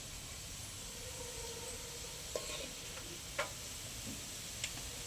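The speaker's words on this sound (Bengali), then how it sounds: "আমি বেরেস্তাটা এরকম কালারে ভেজে নিয়েছি।" Sliced onions fried into dark beresta sizzle quietly in oil as a continuous faint hiss, with a few sharp clicks of a utensil breaking through.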